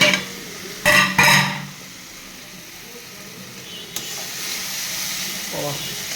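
Potatoes sizzle and fry in a pan, with two loud bursts of stirring and scraping near the start, then a steady softer hiss of frying.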